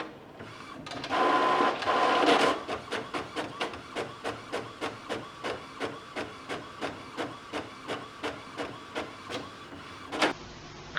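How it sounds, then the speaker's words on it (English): Epson WorkForce inkjet printer running with chipless cartridges: an initial whir of feeding, then a rapid regular series of short mechanical clicks and ticks as the print head shuttles, close and fairly quiet. "now you can use your printer as a chipless printer"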